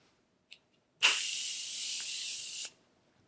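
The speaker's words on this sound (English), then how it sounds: "I'll just spray my face with this." Morphe Continuous Setting Mist sprayed onto a face in one steady, close hiss of about a second and a half, preceded by a faint click of the nozzle, in an otherwise quiet room.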